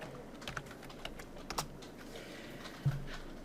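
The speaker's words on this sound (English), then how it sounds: "Type the whole word." Keys clatter on a computer keyboard during a programming lecture, a handful of sparse, light taps close by with a heavier press near the end, no voices.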